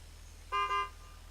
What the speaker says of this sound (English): Right, there's the honk.